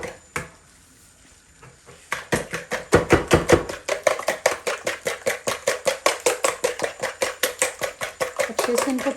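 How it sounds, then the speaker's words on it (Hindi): Four eggs whisked in a bowl for egg halwa: after a brief pause, quick, even strokes settle into a steady rapid rhythm, close and crisp. "और ये जो 4 अंडे हैं इनको मैंने फेंट लेना है।"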